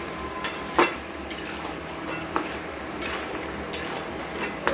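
Chicken with garlic, onion and chilli paste being stirred in a pan, giving a steady sizzle broken by sharp scrapes and clinks of the spoon against the metal at irregular intervals.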